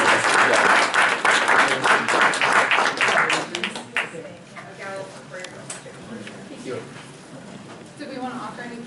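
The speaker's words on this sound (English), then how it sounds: "Let's give him another round of applause." Audience applause at a school board meeting, several seconds of dense clapping that tapers off into scattered claps and room murmur, with a voice speaking over the start.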